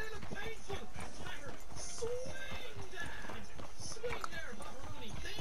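Horse hooves clip-clop steadily along a road in Red Dead Online, a rapid, even rhythm of close hoofbeats running throughout beneath near-constant talking and background game noise.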